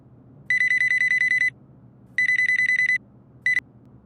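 A telephone rings on an outgoing call, close and loud: two trilling bursts of about a second each, then a brief third burst, alone in a quiet room.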